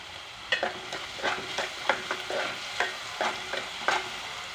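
Sugar fries in a pan for a ghee rice garnish, sizzling steadily under repeated scraping strokes of a spoon. The stirring comes in a quick, uneven rhythm, close and fairly quiet.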